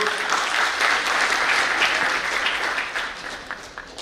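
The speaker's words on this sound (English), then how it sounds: "Again, a round of applause for Kevu." A convention hall audience gives a hearty round of applause, dense and sustained, swelling briefly before thinning out toward the end.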